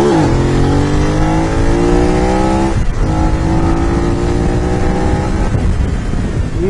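A BMW F 900 R motorcycle with traction control switched off accelerates hard through rising gears, its engine note climbing loudly and pausing briefly at each shift, close to the listener with no talk.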